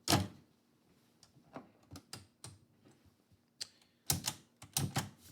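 A manual typewriter clacks in uneven bursts as poetry is typed, sharp individual keystrokes and small clusters with short gaps, fairly quiet and close with no talk.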